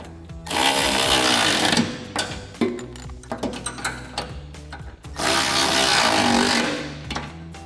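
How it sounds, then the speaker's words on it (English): A 17mm socket and wrench tightening pivot bolts on a front bumper for a 2018-2020 Ford F-150, with rapid ratcheting bursts and metallic clicks, loud and close. "Next, we can take a 17mm socket and wrench to tighten down our two pivot bolts"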